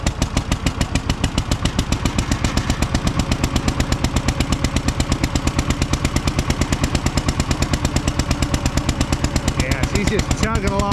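A John Deere MT tractor engine runs on one cylinder, giving a loud, steady, evenly spaced chugging pulse at close range, continuous throughout with a faint voice near the end.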